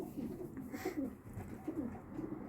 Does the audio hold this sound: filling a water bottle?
no